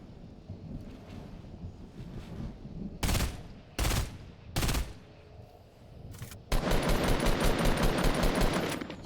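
Sniper gunfire in the video game Fortnite, heard as three sharp, loud shots at irregular spacing. A longer burst of rapid fire follows over a windy background.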